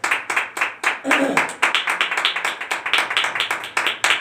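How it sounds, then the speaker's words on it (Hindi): A small group claps in a quick, steady rhythm, close by, with a voice briefly heard underneath, during a Wednesday healing prayer church service. "जोरदार तालियां इस खूबसूरत बातों के लिए।"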